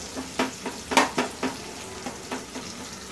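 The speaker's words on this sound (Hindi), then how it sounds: "प्याज डालेंगे, प्याज को थोड़ी सी ब्राउन कर लेंगे।" Onions frying in a pan of oil while gosht kadhi, a yogurt-based mutton curry, is being cooked, giving a steady sizzle with several brief scraping stirs around the middle, close by, with no talking.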